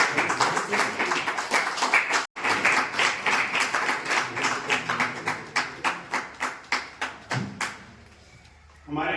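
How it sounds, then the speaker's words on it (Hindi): An audience at a state executive committee meeting in Durg, Chhattisgarh, breaks into dense, loud applause that settles into rhythmic, unified clapping. The claps slow and stop, and a voice follows briefly. "और भी तालियां बजते रहेंगी भैया।"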